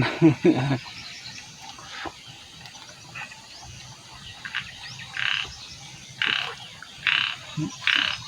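Frogs and toads croak in rice fields at night, short rasping bursts from nearby calling repeatedly at uneven intervals, with faint chirps in the background.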